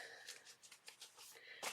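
Tarot cards shuffled by hand, giving a string of soft, quick riffling bursts that come and go and end in one slightly fuller rush, all faint and close with no talking.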